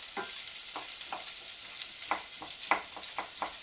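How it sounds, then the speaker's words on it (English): Shredded cabbage frying in hot oil in a pan, a steady bright sizzle with occasional soft stirring clacks, close and continuous with no voices. "I want to get it covered in oil. Get some heat on it so that the outside of the cabbage starts to break down."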